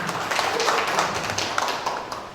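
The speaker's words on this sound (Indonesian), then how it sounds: "Mungkin tepuk tangan dulu buat Pak Yai ini" An audience claps at a palm-oil plantation training event in a pesantren, with scattered, uneven handclaps rising then tapering off over a couple of seconds.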